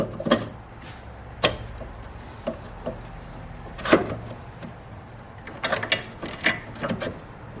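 A part on a Ford Ranger slides back into its rail with scattered plastic clicks, scrapes and knocks close up, a few sharper snaps standing out from a quiet background.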